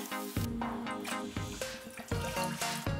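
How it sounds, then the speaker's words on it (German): Cold water runs into a cooking pot holding meaty game bones, a close, continuous tap stream whose pitch climbs in steps as the pot fills, with no voices. "Dann gebe ich die fleischigen Knochen in den Topf rein und fülle das Ganze mit kaltem Wasser auf."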